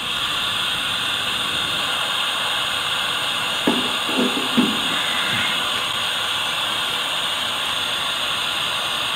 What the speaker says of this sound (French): le bruit blanc généré par la radio que mon ami a déposé